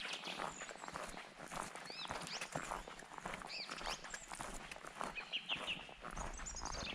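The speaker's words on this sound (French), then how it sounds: "Vraiment paisible avec le bruit des oiseaux, là." Small birds chirp and twitter in short high calls along a forest hiking trail, faint and scattered against a busy background of footsteps and rustling.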